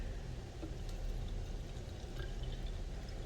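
Water pours steadily into a sensory bottle, a continuous close splashing fill with no voices.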